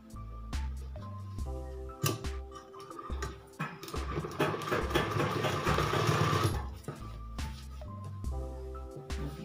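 A sewing machine stitches a simple skirt for an 11–12 year old girl, its rapid mechanical whir swelling into a dense run in the middle and dropping away, close and fairly loud, with no talking.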